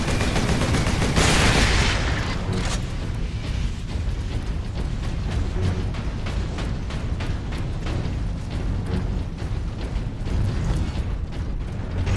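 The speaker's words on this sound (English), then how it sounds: "Lockdown in effect. Sentry guns ahead." Sentry guns in Warhammer 40k: Space Marine fire sustained, rapid bursts of gunfire throughout, dense and continuous, with a brighter blast near the start and mechanical clatter beneath the volleys.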